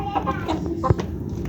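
Several Aseel hens cluck and chatter close up in quick, overlapping calls, with a brief loud squawk in the middle.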